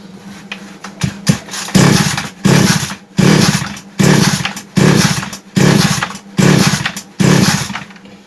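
A Goodluck 4500M chainsaw with a carburettor fault is pull-started over and over, each loud pull giving a short sputtering burst of engine noise that dies away without catching, about seven attempts in a steady rhythm.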